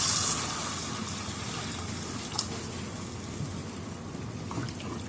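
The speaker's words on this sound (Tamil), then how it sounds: "இப்போ நம்ம தண்ணி ஊற்றிடலாம்." Water pours into a pan of fried spices for fish curry, making a continuous rushing, splashing gush that stays fairly even and close, with a brief knock partway through.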